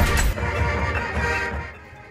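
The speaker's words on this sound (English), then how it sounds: "that's the sound of the Hewitt-Trussville High School marching Husky band" The Hewitt-Trussville High School marching band's loud closing chord, with brass and a crashing cymbal hit, rings out and slowly fades.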